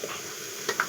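Fresh shrimp marinated with turmeric, salt, chili and cumin powder frying in a pan, a brief soft sizzle under a spatula stirring, with a couple of light scraping knocks near the end.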